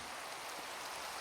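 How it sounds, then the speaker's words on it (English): Steady rain hisses in Minecraft as a dense, even wash of droplets with no talking. "just soak in the rain"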